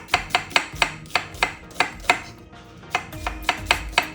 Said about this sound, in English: Cut the onion in half, cut it thinly.